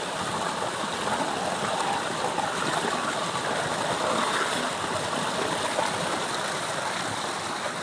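A freshwater stream flows and splashes in a steady, dense rush of water, close and constant for the whole stretch, with no voices over it.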